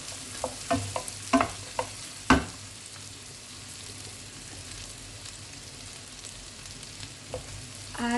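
Pork and mushrooms sautéing in butter in a pan give a steady soft sizzle, with several sharp stirring clatters early on and another near the end.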